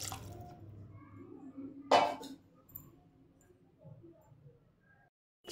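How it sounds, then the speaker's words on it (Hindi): A little water splashed into a hot pan of soya chunks while cooking soya gobi chilli, one short sizzling burst followed by faint, quiet simmering. "अल्प टिके पानी दे देबा।"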